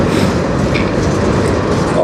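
CN M384, a freight train broken apart after going into emergency braking, rumbles through a tunnel as a steady, loud, dense roar without pause.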